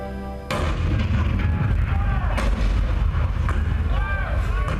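Cannon fire in the Hall of Presidents show at Magic Kingdom, Florida: a sudden heavy boom erupts and rolls into sustained booming and rumbling, loud and dense.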